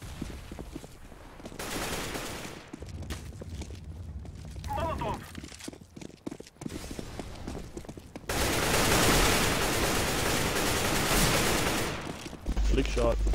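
Bursts of gunfire from the CS:GO video game on the Dust 2 map, sharp volleys and rapid automatic fire, loud and close, with a dense sustained stretch later, while players talk over it.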